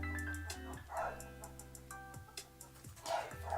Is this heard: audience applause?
no